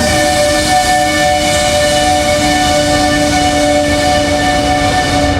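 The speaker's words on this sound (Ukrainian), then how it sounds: "Сьогодні, окрім звичного сигналу, машині здає довгий гудок." A long, loud, steady train horn blast sounds the whole time, over the low rumble of a train at a Ukrainian railway station.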